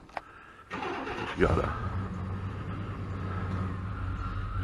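A truck engine cranks and starts near a river campsite, then settles into a steady low idle, with a voice speaking briefly over it.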